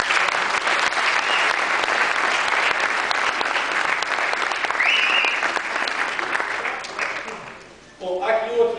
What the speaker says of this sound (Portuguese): eu podia mais uma vez salva de palmas